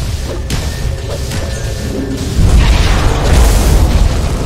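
A Dota 2 tower collapses and explodes in a match: loud, deep booming blasts and crashing debris roll in heavy waves, with a whooshing burst layered over the steady battle noise.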